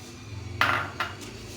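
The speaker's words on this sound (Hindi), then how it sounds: "एक बाउल उठा लिया" A bowl being picked up and set down in a kitchen while strained curdled milk is prepared for rasgulla, giving two or three bright, ringing knocks over a low background hum, close by, with no talking.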